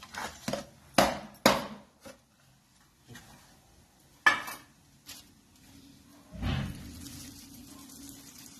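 A knife cuts through set Mysore pak sweet, giving sharp, irregular knocks and clacks against a tray or board, close and separated by short quiet gaps.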